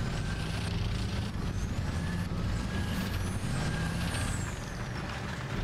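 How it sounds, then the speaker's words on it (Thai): Tank tracks roll in the War Thunder video game, a continuous heavy rumble with clanking and hissing, moderately loud and steady, with no voices. "เขาจะเพิ่มเสียงตีนตะขาบมาด้วยเนาะ"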